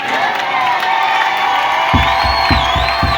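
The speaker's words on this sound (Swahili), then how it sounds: "Kwa hii jioni tumupigie Bwana kelele za shangwe." Church congregation at an evening Easter celebration service raising loud, sustained shouts of joy together, a dense roar of many voices with whoops and cheering, rhythmic low thumps joining near the end.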